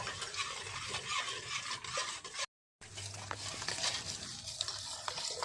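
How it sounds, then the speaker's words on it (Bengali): Hung sour yogurt being whisked smooth in a bowl for sweet misti doi, a soft continuous scraping and stirring close by, briefly dropping out midway, with no speech. "দইটা কিন্তু ভালো করে ফাটাতে হবে যেন দলা হয়ে না থাকে"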